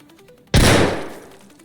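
A single loud gunshot from the video game Escape from Tarkov, played back through budget gaming earphones, cracks sharply after a quiet stretch and then decays over about a second with a broad, reverberant tail.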